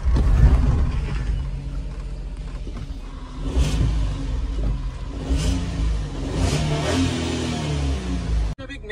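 A stalled car is shoved from behind by a group of people to get it started, and its engine revs in loud, uneven surges with mechanical rumble for several seconds before a sudden cutoff near the end.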